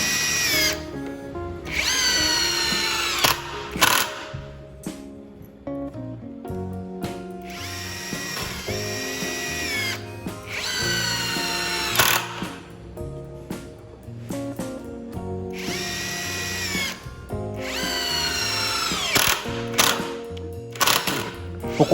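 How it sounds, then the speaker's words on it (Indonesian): A power drill drives a 7 cm screw into wood in several loud, close bursts, the whining motor rising and falling between short pauses, with rattling impacts and no talk. "Kita tes nyekrup ukuran 7 cm."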